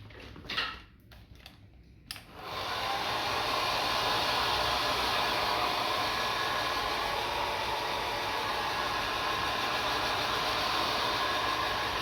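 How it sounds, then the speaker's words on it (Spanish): A hair dryer drying a watercolour coastal landscape painting switches on after a few soft clicks and handling noises, then blows a steady, loud airy whoosh that continues unbroken. "lo voy a parar con el secador"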